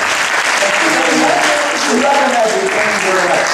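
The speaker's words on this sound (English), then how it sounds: "Give him a big round of applause." Dense applause from an audience at a motivational networking talk fills the whole stretch, steady and loud with voices murmuring underneath.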